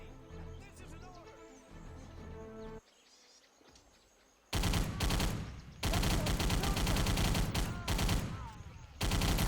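A Thompson submachine gun fires in a video game in loud, sustained automatic bursts separated by short pauses, following a quieter stretch of game ambience.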